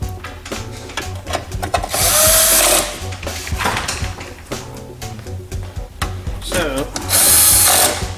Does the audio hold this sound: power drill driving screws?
yes